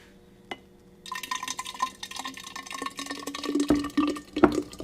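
Homemade Tabasco-style hot sauce mixture poured into an amber glass ball jar, a close liquid splashing and gurgling stream that starts after a short pause and grows fuller and louder toward the end.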